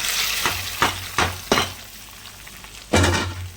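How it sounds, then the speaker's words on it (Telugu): Tempering for dal spattering in a hot pan: four quick sizzling bursts in succession, a pause, then one more loud burst, close and without voices. "ఇదిగోండి నేనైతే ఈ విధంగా చక్కగా తాలింపు పెట్టేస్తాను."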